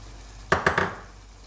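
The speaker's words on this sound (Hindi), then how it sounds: "बड़ी इलायची, छोटी इलायची, दालचीनी का पीस और लौंग मैं डाल रही हूँ" Whole cardamom, cinnamon and cloves drop into a pot of mashed tomatoes for mutton shorba, making three quick, close metallic clinks against the pot in a short row that fades away quickly, then near silence.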